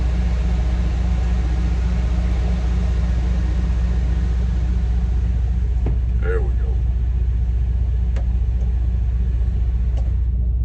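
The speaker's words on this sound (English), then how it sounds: "Y'all probably hear that reefer unit running back there." A constant low mechanical hum and rumble from a truck trailer's refrigeration unit running nearby, with someone speaking briefly and some clicks over it.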